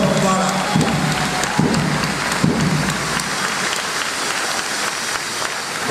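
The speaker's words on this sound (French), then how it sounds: "Encore l'applaudissement." A church congregation applauds to welcome a new bishop, with a continuous wash of clapping that slowly fades, a voice speaking over it near the start.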